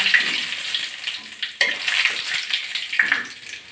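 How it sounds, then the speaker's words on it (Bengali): Panch phoron, bay leaves and dried chillies tempering in hot oil, a close, continuous crackling sizzle with small sputtering pops and a sharp burst partway through as more goes in. "এক চামচ পাঁচ ফোড়ন ফোড়ন দিচ্ছি তেলের ভিতরে এবার দিয়ে দিচ্ছি তেজপাতা আর দুটো শুকনো লঙ্কা"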